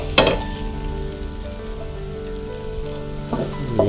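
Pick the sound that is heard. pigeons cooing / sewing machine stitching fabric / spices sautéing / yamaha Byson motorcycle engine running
spices sautéing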